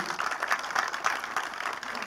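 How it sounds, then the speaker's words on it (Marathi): Applause from the audience at the Marathi film trailer launch of Punha Shivaji Raje Bhosale, a steady wash of clapping with the crowd, moderately loud and sustained throughout. "जोरदार टाळ्या झाल्या पाहिजेत या ट्रेलरसाठी"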